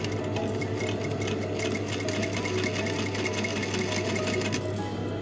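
Sewing machine running continuously and close up, stitching a rib collar onto a round-neck T-shirt with a fast, even needle rhythm and a steady motor hum, with no talk.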